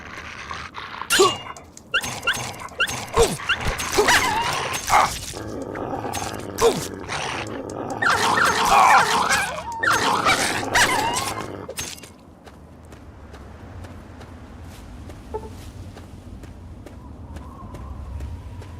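A dog in a video game barks and growls in bursts over clattering game sounds for about twelve seconds, then everything drops to a quiet ambient hum with a faint stray noise.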